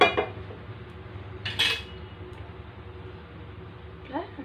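Dibba attu (thick urad dal dosa) lifted from a hot pan onto a plate, giving a few clinks and scrapes of a utensil against cookware, with a brief metallic clatter near the middle and a soft scrape at the end.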